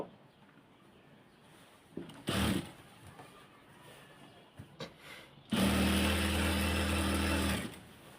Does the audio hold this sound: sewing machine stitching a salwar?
yes